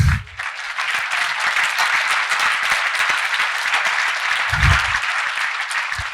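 Applause from a conference audience at a security talk, a dense continuous patter of many hands clapping fills the room for several seconds, with a couple of low thumps near the start and middle.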